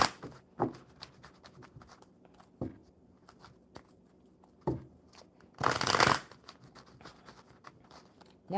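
Love cards being shuffled, giving a quiet stretch of soft scattered riffles, a few brief bursts and one dense louder flurry near the middle.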